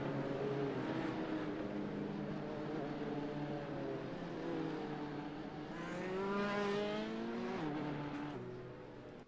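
LMP2 prototype race cars pulling out of pit lane at Road Atlanta in a sim racing game, a continuous layered engine drone with several cars rising and falling in pitch as they accelerate past.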